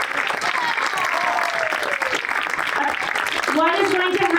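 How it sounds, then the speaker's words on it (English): A school audience claps steadily for students at a 5th grade culmination ceremony, dense sustained applause filling the room and lasting throughout. "let's give everyone a round of applause"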